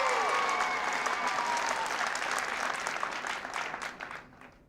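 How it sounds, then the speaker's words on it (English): A large audience claps and cheers at a presidential address, dense and loud applause filling the space steadily before tapering off and fading out near the end, with no voices over it. "I'm going to get another cheer about this"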